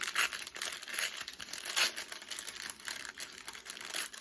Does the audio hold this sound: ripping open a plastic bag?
yes